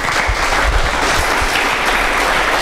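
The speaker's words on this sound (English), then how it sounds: "Please give an applause." An audience at a talk on the future of games and artificial intelligence applauds, with steady dense clapping throughout and a few low thumps underneath.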